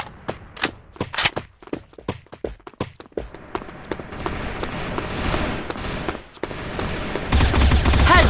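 Assault rifle gunfire in a free-for-all shooter video game: sharp single shots and short bursts, then denser rapid fire with running footsteps and game noise building toward the end.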